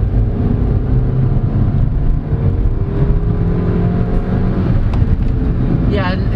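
Engine of a 2022 Changan Alsvin Platinum DCT subcompact sedan accelerating in second gear, a steady droning hum with rising tones under road and cabin noise, heard from inside the car.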